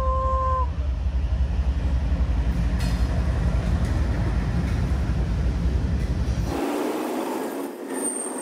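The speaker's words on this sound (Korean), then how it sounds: "기차 기차 기차" A train passes near the Porteau Cove campground outside Vancouver. A brief horn tone opens a loud, steady rolling rumble with wheel squeal. The noise cuts away fairly abruptly near the end, leaving quieter outdoor ambience.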